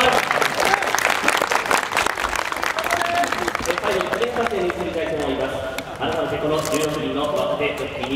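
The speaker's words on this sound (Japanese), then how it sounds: "大きな拍手をお願いします。" Crowd applause at Kawasaki racecourse for young jockeys at a trial introduction ceremony, steady clapping that continues throughout under a loud announcer's voice.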